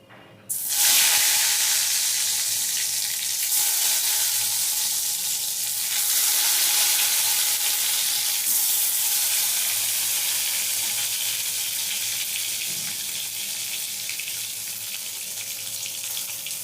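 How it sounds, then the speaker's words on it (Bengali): Eggplant frying in oil left over from frying fish, a steady close sizzle with bright crackling hiss that swells and eases slightly, running continuously without any talk. "ওই মাছ ভাজা তেলে বেগুনটাও এরকম লাল লাল করে ভেজে নেবো"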